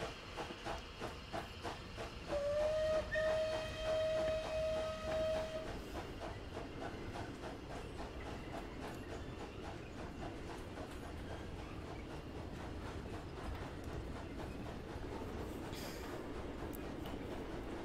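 A Merchant Navy class steam locomotive, Clan Line, runs on the Paignton to Kingswear line in Train Simulator 2020, with a sustained whistle blast early on over steady chuffing, hissing steam and a rhythmic rail clatter.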